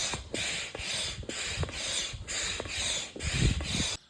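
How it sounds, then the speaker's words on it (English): An old double-acting hand pump inflates a boat. It gives about seven regular rubbing, wheezing strokes, each with a brief pause between, heard up close and alone. "Oh, the old double acting pump, I see."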